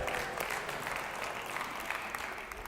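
A crowd claps steadily for a few seconds, a dense, even patter of many hands at moderate volume.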